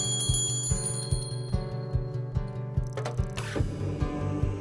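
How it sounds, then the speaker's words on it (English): Classroom meditation bell struck by a teacher, a clear ringing bell with sustained metallic tones, accompanied by a regular low ticking beat and a brighter shimmering burst near the end. "The teacher rings a bell, and that starts the quiet time session."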